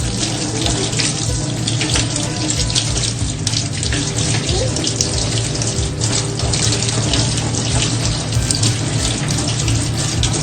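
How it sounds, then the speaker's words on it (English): Hands are washed with soap under a running kitchen tap, the water pouring loudly and steadily throughout with faint splashing as hands move in the stream. "Now wash your hands"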